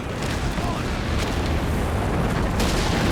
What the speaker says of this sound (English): It seems like it's getting heavy mortar barraged